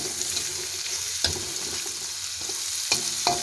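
Onions sauté in a pan in a quiet, steady sizzle, with a few sharp clicks and scrapes of stirring or utensils on the pan and no voices.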